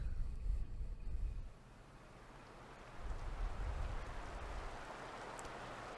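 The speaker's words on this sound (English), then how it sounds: "I wake to the sound of rain against my window." Rain falling against a window as a visual novel sound effect, a steady soft hiss of rainfall with a gentle rise and fall in level, continuous and without speech.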